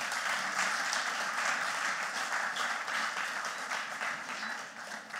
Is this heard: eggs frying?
no